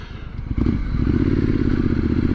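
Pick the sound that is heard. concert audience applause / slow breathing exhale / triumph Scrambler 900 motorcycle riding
triumph Scrambler 900 motorcycle riding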